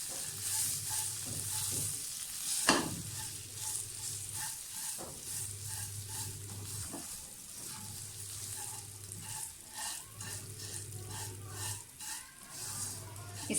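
Fine vermicelli fries in ghee for sheer khurma, giving a steady sizzle broken by repeated bursts of stirring and a sharp clink near the start.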